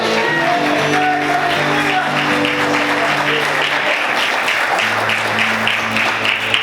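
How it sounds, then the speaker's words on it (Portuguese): Congregation applauding in a church service, steady dense clapping with scattered shouts and whoops, while sustained musical tones hold underneath throughout. "Você pode aplaudir e exaltar ao Senhor, aleluia"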